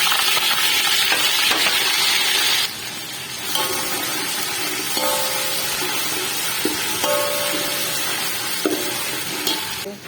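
Browned onion sizzles in a pan with ginger and garlic for chicken Kabuli Lahori pulao, a loud, continuous frying hiss close up, broken by a few metallic clinks of a stirring spoon against the pot, with no one speaking.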